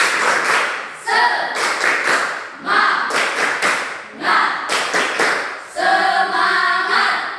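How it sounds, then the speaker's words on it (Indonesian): A group of schoolchildren in a classroom claps together in a rhythmic pattern, several short bursts of hand claps with brief pauses between them, fairly loud and close. "silakan dulu anak-anak kami tepuk semangat untuk si Murni."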